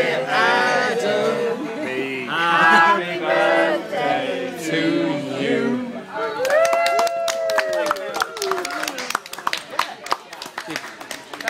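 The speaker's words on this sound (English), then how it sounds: "You're getting applause from other tables." Diners at other restaurant tables applauding after a birthday song, scattered sharp claps and cheering rising over talk and laughter in a reverberant room, following several seconds of singing voices.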